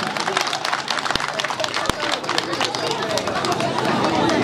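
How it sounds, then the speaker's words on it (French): Audience applause at a youth holiday programme's closing ceremony in Foyemtcha, steady dense clapping from a crowd, with a couple of sharp pops and a murmur of voices underneath. "Mesdames et messieurs, applaudissons une fois de plus pour ces encadreurs esprits jeunes."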